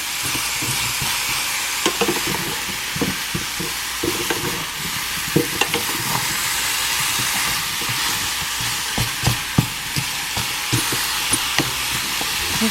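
Cauliflower sizzles as it goes into a hot pan, a loud steady frying hiss with scattered crackles and stirring clatter, no talk over it.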